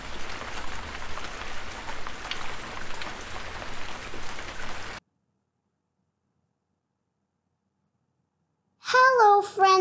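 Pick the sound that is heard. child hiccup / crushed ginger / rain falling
rain falling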